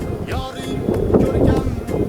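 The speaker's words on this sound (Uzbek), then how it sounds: "Daralarda shamolchan keldi." Wind gusts through mountain valleys during a scooter ride, a steady rough roar buffeting the microphone with voices faintly underneath.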